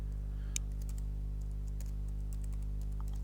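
Keys clatter on a computer keyboard in irregular quick taps over a loud steady low hum, close and fairly soft, with no speech.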